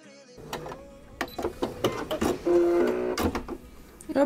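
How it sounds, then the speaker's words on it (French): A sewing machine stitches a short seam on a hot water bottle cover, running in a few brief bursts with clicks and whirs and a steadier stretch in the middle, close and fairly loud. "Donc là, je vais faire une petite couture."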